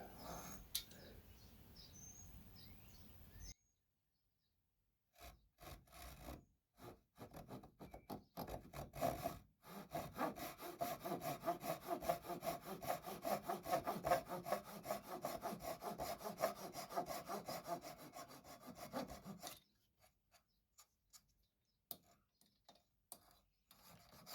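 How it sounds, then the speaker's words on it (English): A hand saw cuts through a wooden pallet board in quick rhythmic back-and-forth rasping strokes, close and fairly quiet, with short pauses and faint birdsong in the background. "I can't get to my bandsaw right now, so I'm just going to use this saw to do this cut."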